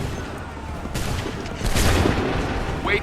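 A ragged musket volley in Assassin's Creed 3 Remastered, several near-simultaneous shots cracking out in a dense burst that swells and then trails off, close and loud.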